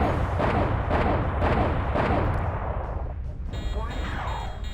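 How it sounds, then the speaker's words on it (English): Heavy autocannon fire in MechWarrior Online with a MechWarrior 2 sound mod: several deep, punchy booming bursts in quick rhythm, loud and close, trailing into rumble and an electronic interface tone. "there's some autocannons for you, which have more of a punch than the ones that we normally get in MWO"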